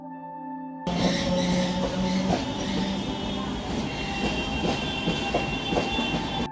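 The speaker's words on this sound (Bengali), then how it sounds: "আমরা এখন বালিঘাট স্টেশনে গন্তব্য শিয়ালদা স্টেশন" A train rumbles at Balighat railway station on the run toward Sealdah, with a continuous close clatter of wheels and rail noise and faint squeals.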